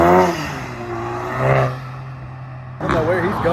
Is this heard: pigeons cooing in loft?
no